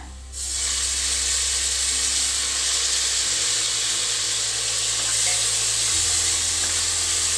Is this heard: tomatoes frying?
yes